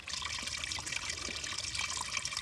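Water trickles and pours into the soft squeeze pouch of a hiking water filter, a steady close, bright splashing flow that continues throughout without any voices.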